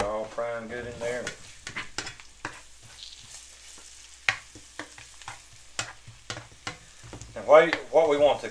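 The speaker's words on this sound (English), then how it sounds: "Get that all frying good in there." Steady sizzling of wild poke greens frying crispy in hot oil, punctuated by frequent clinks and scrapes of a utensil stirring the pan.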